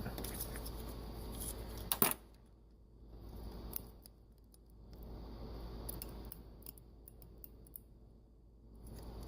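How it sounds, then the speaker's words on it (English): A snow plow valve moving, giving faint scattered clicks and ticks over a low background hum, with a sharper snap near the start and then sparse irregular clicks. "That is the sound of a valve moving."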